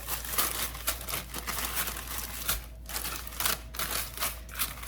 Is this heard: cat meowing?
no